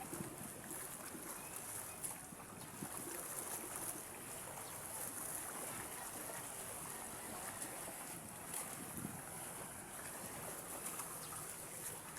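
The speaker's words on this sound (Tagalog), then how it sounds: "Laki yung alon." Big sea waves wash around a small boat off Mariveles, Bataan, a faint, steady rushing of water and wind with occasional surges.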